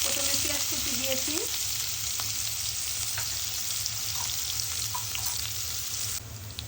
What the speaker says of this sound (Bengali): পেঁয়াজ ভাজা হয়েছে